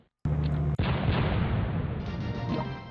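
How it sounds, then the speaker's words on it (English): Anti-aircraft guns fire on tanks in the World War II strategy game Glory of Generals 3, set in the North African desert. A heavy booming blast hits suddenly, then a second crack, and a dense, roaring rumble follows. "Use our anti-aircraft guns to attack the enemy's tanks"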